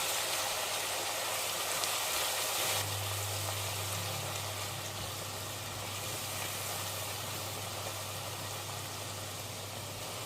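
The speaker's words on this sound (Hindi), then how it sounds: "मैंने यहाँ पे अदरक लहसुन के पेस्ट को प्याज के साथ कुक कर लिया है।" Steady soft sizzling of onion and ginger-garlic paste frying in a pan, with a low hum underneath, continuous and fairly quiet.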